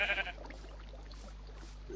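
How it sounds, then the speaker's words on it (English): A sheep bleats once in the video game Minecraft, a short near call at the very start, followed by quiet background hum. "We have sheep"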